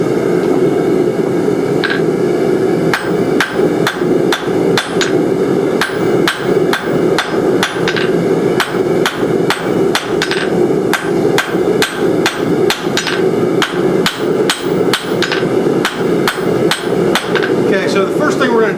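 A hammer forges a steel spoon bit, ringing metal blows landing one after another in a steady, close rhythm with brief gaps, loud and clear with no talk.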